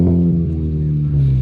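A modified Honda's engine revs up close at a Cars and Coffee meet, a loud throaty roar that dips slightly then climbs again, with no talking.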